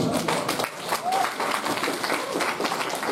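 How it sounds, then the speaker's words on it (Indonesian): A crowd at a school seminar gives a short, steady round of clapping for Pak Didi, heard close and mixed with voices. "Kasih aplaus untuk Pak Didi"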